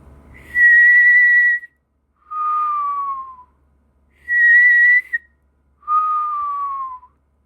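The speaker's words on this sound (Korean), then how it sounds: "저도 들숨 날숨으로 휘파람 하는데요." A person whistles four clear, sustained notes, alternating between inhaled and exhaled breaths. Each note lasts about a second, the pitch drops between the in and out whistles, and quiet gaps separate the notes.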